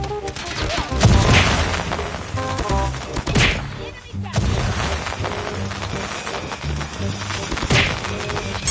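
Bombs and gunfire from a mobile shooter game erupt in several loud booms and crashing bursts, layered with shots and busy game effects.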